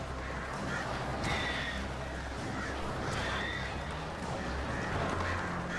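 Crows caw repeatedly in Alan Wake Remastered, several harsh calls rising over a dense, steady game ambience with low rumbling layers throughout.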